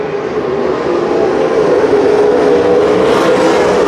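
Wingless sprint cars race at Calistoga Speedway, a loud steady engine roar sustained throughout with a slight rising pitch as cars drag race side by side down the front straightaway into turn one.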